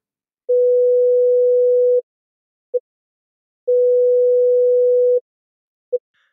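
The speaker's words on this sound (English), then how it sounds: "a long sustained sound will also sound louder than just a short blip" A steady pure sine test tone plays alone: two long sustained tones of about one and a half seconds each, each followed by a short blip of the same pitch, with silence between them.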